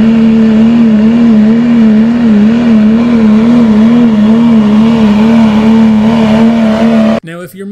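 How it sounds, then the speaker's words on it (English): A coal-rolling pickup with a modified diesel engine holds a loud, steady high-revving drone with a slight wavering pitch for about seven seconds, then cuts off abruptly. "modifying a diesel engine in order for the exhaust to release more smoke"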